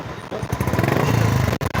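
A loud, throaty Bullet motorcycle engine revs and idles close by, its raspy exhaust through a non-stock aftermarket silencer rumbling steadily with a brief cut near the end.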